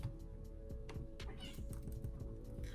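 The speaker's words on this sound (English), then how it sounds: "if you hear anything in the background, it is my kittens" Kittens mew softly in the background, their small cries scattered over steady tones and light bumps of play.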